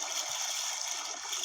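Sea waves rolling and washing steadily along a shore while fishing, a continuous broad rushing wash that stays even and moderately loud throughout, with no voices.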